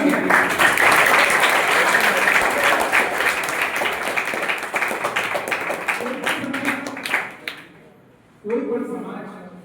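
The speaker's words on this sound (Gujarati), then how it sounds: "એકવાર પોતાના માટે તમે તાળી પાડી દો કે અમે અહીં આવ્યા." A seminar audience bursting into sustained applause, dense clapping that gradually thins and fades before a brief renewed round at the end.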